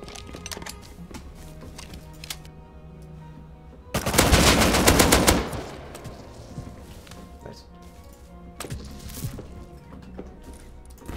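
Gunfire in the Rust survival video game: a loud, dense burst of automatic shots lasting over a second, standing out from quieter background clicks and game ambience.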